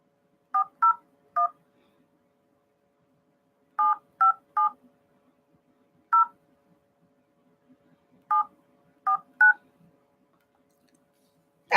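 A phone number dialed on a telephone keypad, crisp DTMF tones in short clusters of two or three rapid beeps separated by pauses, loud and isolated against near silence.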